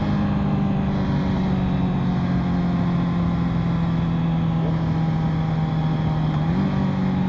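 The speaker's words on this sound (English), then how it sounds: "we're gonna downshift without clutch, no clutch at all" A Honda motorcycle with an E-clutch rides along under a steady, loud engine drone, and near the end the pitch steps up as it downshifts without the clutch.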